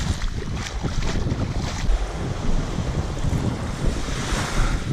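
Surf churns and washes around with heavy wind buffeting the microphone, a rough, continuous roar in the water off an Aruba beach, with no talking.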